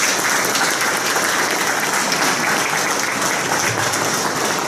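Loud, dense applause from the audience at a police retirement, promotion and swearing-in ceremony in Elgin, an even wash of clapping held steady throughout.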